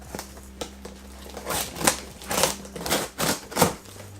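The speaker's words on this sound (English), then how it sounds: "Let's cut into this box over here." A blade slices through a cardboard shipping box in a few quick, scratchy strokes, close and fairly loud, with short pauses between cuts and no talking.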